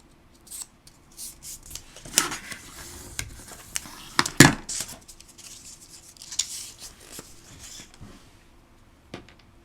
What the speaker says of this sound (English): And then I'm just going to fold and burnish these scores.